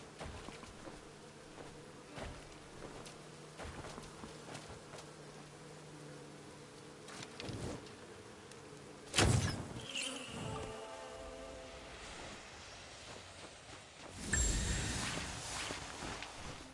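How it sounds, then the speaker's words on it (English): Bees buzz around a beehive on a tree in the video game Where Winds Meet, a faint, steady insect drone with soft ambient rustles and a couple of louder impacts partway through. "Shoot the beehive on the tree and climb and get it"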